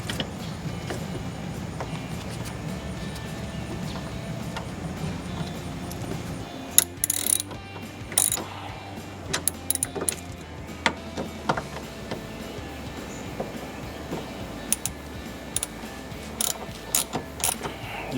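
A ratchet driving T40 Torx bolts into a Jeep Wrangler TJ roll bar pad mount, first a continuous clicking run, then scattered short ratchet bursts and sharp clicks, close and clear with no talk.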